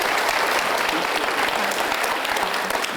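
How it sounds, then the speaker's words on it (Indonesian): Studio audience on an Indonesian talk show breaks into loud, dense applause, a continuous wash of clapping that holds strong for the full few seconds, close and filling the room. "kita berikan aplaus untuk Nacha"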